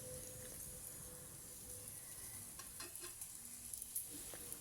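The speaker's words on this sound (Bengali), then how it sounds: "এইভাবে দেখুন আরেকটা আমি ভেজে নিলাম এবং একইভাবে সবগুলো ভেজে নিচ্ছি" A doi paratha made with flour and yogurt sizzles steadily in a hot pan, a quiet, even hiss with a few light clicks and scrapes near the end.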